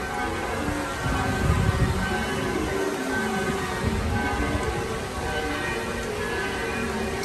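Heavy rain falls in Medjugorje, producing a dense, continuous wash of hiss that stays loud and close for the whole stretch without any talking.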